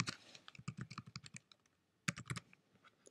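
Rapid typing on a computer keyboard while entering text in all caps, with close, crisp key clicks in quick irregular bursts, a short pause, then another flurry of keystrokes.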